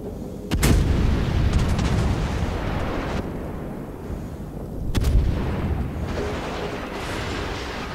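Battleship main guns firing in a naval combat video game: two heavy booming salvos a few seconds apart, each a sharp blast followed by a rumbling low tail, over a steady background rumble.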